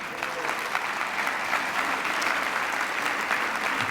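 An audience at a children's advocacy awards ceremony applauds steadily, a dense and even wash of clapping that holds at a constant level for the whole stretch.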